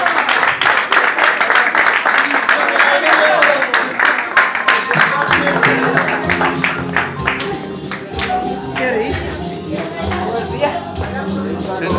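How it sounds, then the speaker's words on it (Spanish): An audience bursts into loud, dense applause for a performer, many hands clapping close and fast, then thinning into scattered claps as voices and music rise. "Ahora ese aplauso fuerte para ella."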